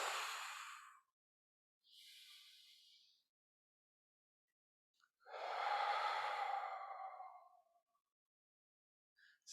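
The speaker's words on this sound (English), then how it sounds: "On the inhale, moving out, and on the exhale, getting long." Slow, deep breathing during a movement-therapy exercise: long airy inhales and exhales close to the microphone, separated by quiet pauses.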